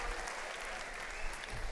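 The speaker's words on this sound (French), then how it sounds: "On peut l'applaudir très fort." Audience applause at a Grand Rex screening event in Paris, a steady dense wash of clapping from a large crowd, loud and continuous throughout with no break.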